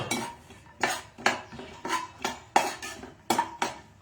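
Dry fruits stirred while roasting in a pan, a series of about nine sharp metallic scrapes and clinks of a spoon against the pan at a steady, uneven rhythm, close and distinct.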